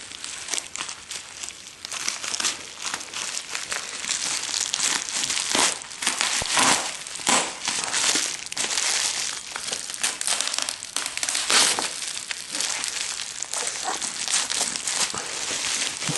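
Continuous crinkling and crackling of plastic and packaging as scissors cut open a taped package, close and busy, with scraping and tearing bursts throughout and no speech.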